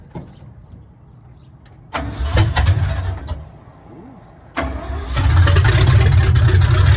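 A 1974 Ford F-250 with a 360 big block and headers cranks and catches twice, each start a loud burst, the second settling into a strong, rough, loud idle close by.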